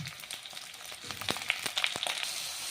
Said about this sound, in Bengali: এখন আমি কাঁচা লঙ্কাটাও দিয়ে দেবো এর মধ্যে, সুন্দর করে আমি লাল করে ভাজিয়ে নেব